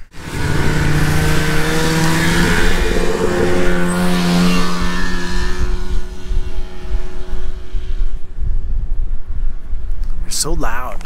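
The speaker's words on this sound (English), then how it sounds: "There's a couple sleds coming right here, so I'm gonna get out of the way." Snowmobiles roar past close by on a windy spring alpine slope, a loud droning engine swell that fades away over several seconds, with a person talking over it.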